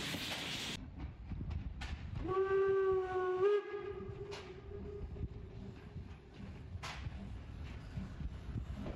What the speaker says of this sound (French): le train est à l'heure, comme tous les autres